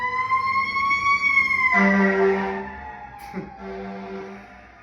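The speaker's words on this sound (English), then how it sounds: "Sirens are going off." A siren wails with a steady rising-and-falling tone, then a second deeper horn-like siren blares in, loud and close, with a brief clank midway.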